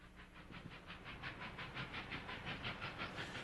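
Union Pacific 844, a 1944 Alco-built steam locomotive with 80-inch drivers, runs along a Colorado line with a steady rhythmic chuffing and hissing exhaust beat, moderately distant and continuous.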